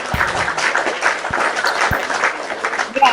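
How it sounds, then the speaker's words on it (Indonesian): Steady applause from a crowd, dense and continuous clapping filling the whole stretch, with a few low thumps mixed in. "Tepuk tangan untuk kita."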